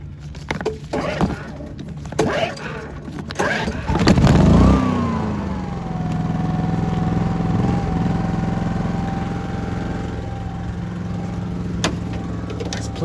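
A portable ozone generator runs inside the cab of a Freightliner FLD120 or Peterbilt 362 cabover truck. Its steady motor hum and whine start about four seconds in and continue evenly to the end, after earlier handling noises.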